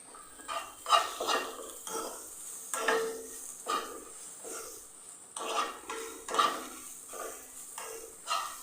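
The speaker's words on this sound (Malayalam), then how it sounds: "നല്ലപോലെ ഒന്ന് റോസ്റ്റ് ചെയ്തെടുക്കുക" Coconut and banana roasting in ghee, stirred in a pan: repeated soft scraping strokes with a faint sizzle underneath, fairly quiet and close, with no talk.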